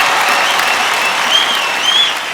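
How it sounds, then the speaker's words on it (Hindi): A comedy show studio audience applauds Delhi Police in a loud, sustained burst of dense clapping with faint crowd noise and whistles, continuing steadily throughout. "हमारे दोस्तों के लिए जोरदार तालियां हो जाए हमारी दिल्ली पुलिस के लिए"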